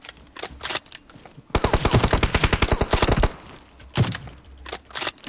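Gunfire from the video game PUBG Mobile: a loud, rapid automatic burst of about twenty shots lasting nearly two seconds, followed by a single sharper shot and scattered quieter in-game noise, with no talk.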